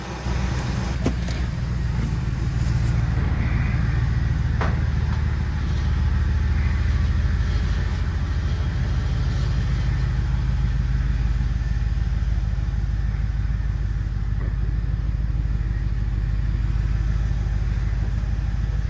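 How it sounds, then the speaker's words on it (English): A 2001 Ford car on a test drive after throttle position sensor work, its engine and road rumble steady and loud throughout, with a few faint clicks and rattles over the continuous drone. "I'll take it for a test drive"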